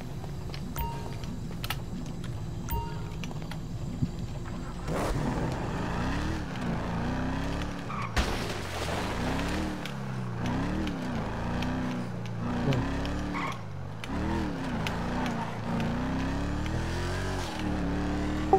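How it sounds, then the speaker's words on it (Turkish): Cars drive past on a busy street, engines rising and falling in a string of swooshing passes, some close and loud, over steady traffic rumble. "Her yerde araba var ya."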